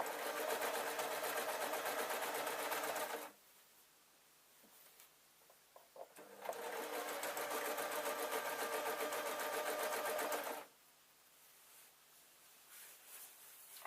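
A sewing machine stitches fabric in two long, loud, steady runs of rapid mechanical whirring, separated by a quiet pause with faint handling clicks, then starts again briefly at the end.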